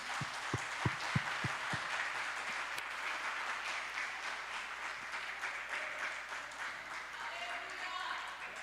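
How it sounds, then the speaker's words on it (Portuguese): A church congregation applauds together, a steady wash of clapping held at moderate distance throughout, with a few sharper hand claps standing out near the start. "Pode aplaudir a Jesus."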